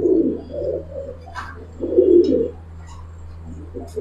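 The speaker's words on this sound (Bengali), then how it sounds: "আমি এই মাদিটার সাথে একটু ছেড়ে দেখাই, তাহলে বুঝতে পারবেন যে কবুতরটা" Giribaz and colouring fancy pigeons coo close by in low, throaty repeated bursts, two main rolls with softer calls between them and a faint higher chirp or two over a steady low hum.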